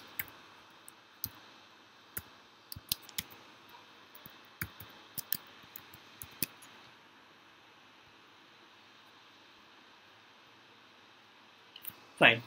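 Computer mouse clicks come as sharp, scattered single and double taps over the first seven seconds. After that the room goes quiet, with one louder burst at the very end.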